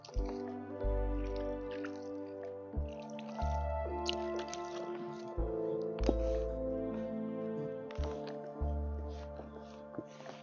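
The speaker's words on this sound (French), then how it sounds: "On va encore ajouter un peu d'eau" Water being added to a maggot-rearing substrate, with drips and wet squishing sounds repeating close by over a steady musical background.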